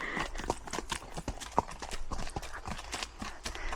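Horse hooves clip-clop at a slow walk during a leisurely outing, a steady series of close, distinct hoof strikes repeating throughout without talk.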